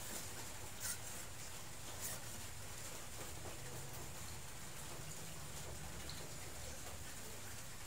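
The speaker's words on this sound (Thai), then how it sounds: "ฝนตกครับบ่ได้ไปทางไหนมื้อนี" Rain falls steadily on a surface outdoors as an even, moderately quiet patter, with a few louder drips standing out now and then and no voices.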